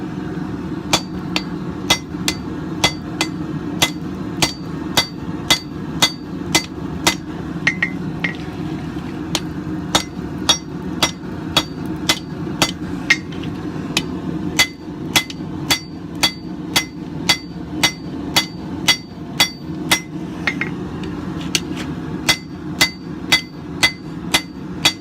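A hammer striking a coil spring knife handle being drawn out on the far edge of an anvil, sharp ringing metallic blows in a steady rhythm, loud and close, repeating throughout with no talking.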